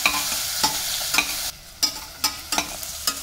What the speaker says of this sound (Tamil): வெங்காயம் நல்லா வதங்கிடுது